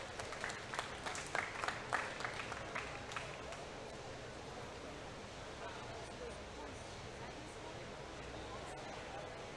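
Crowd at a county junior fair dairy feeder calf show applauds a showman, a burst of distinct claps at first that blends into a steady wash of applause, distant and hall-like.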